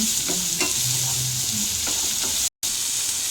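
Sliced onions and green chillies frying in oil over a medium flame for vegetable pulao, a steady bright sizzle with a few soft stirring knocks and a brief dropout near the end.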